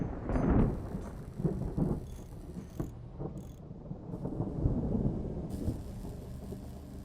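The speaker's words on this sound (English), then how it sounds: "it's raining right now" Rain with low rumbling thunder in the Captain of Industry video game, a steady wash of rainfall under a deep rolling rumble that swells early and again near the end.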